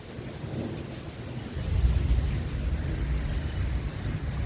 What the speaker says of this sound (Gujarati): વરસાદ ખૂબ ગાજી રહ્યો છે.